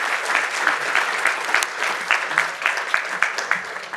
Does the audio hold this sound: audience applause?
yes